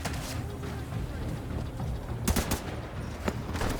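Gunfire in The Division 2, rendered at max settings, comes as short sharp bursts around the middle and end of the clip over a steady, dense game soundscape.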